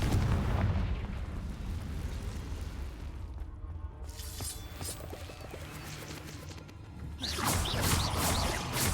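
In the video game Hogwarts Legacy, Confringo blasting curses go off as a run of heavy booming explosions with rumbling low end and crackling debris, loud and close, with swelling bursts near the start and end.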